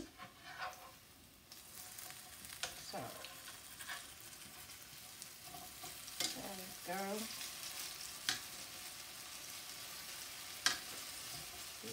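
Banana fritters made with flour batter fry in a pan, a soft steady sizzle with scattered crackles and pops and a few brief clinks, fairly quiet and with no talking.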